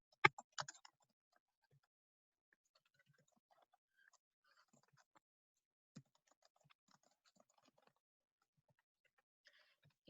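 Light typing on a computer keyboard, with a few quick clustered keystrokes at the start, then sparse, faint taps spread across a quiet stretch.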